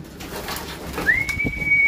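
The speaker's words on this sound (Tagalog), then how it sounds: "Yung mga ibon ni Brother Dan Baharo" A pigeon coos softly nearby, with a thin high whistle cutting in halfway through over faint rustling background.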